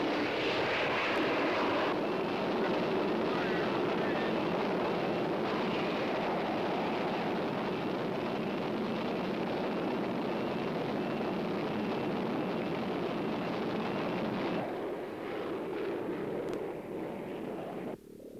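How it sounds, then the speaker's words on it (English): A rocket motor fires on an air-dropped experimental craft in an old science-fiction film. A loud, continuous roaring rush holds steady for about fifteen seconds, then dips and thins toward the end. "Firing rocket motor."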